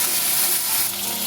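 Grated ginger and spices fry briskly in hot oil in a pan, a steady loud sizzle with faint stirring and no voices.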